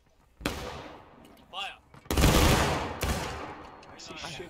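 Musket volley fired by a line of soldiers in the Civil War game War of Rights, heard as several loud, broad gunfire bursts spread across the clip, with voices mixed in.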